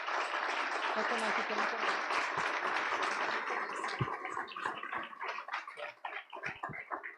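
Church congregation applause, dense and loud at first, then thinning into scattered claps as a voice starts speaking over it.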